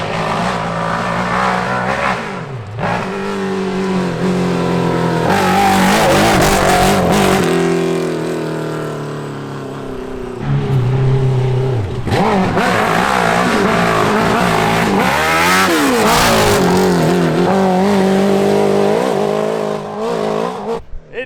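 A Honda N600 micro car fitted with a Honda CBR1000RR superbike engine and no exhaust, raw and loud, revs hard and repeatedly, rising and falling through bursts of acceleration with brief lulls between runs.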